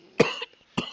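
Two sharp, close coughs sound a little over half a second apart, loud against near silence.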